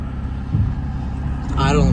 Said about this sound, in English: Idling pretty good now.